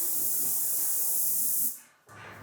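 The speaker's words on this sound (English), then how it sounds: "Once again, spray the edges." An airless paint sprayer hisses steadily while spraying the edges of an interior door, a loud continuous spray that cuts off abruptly and then gives way to a quieter hum.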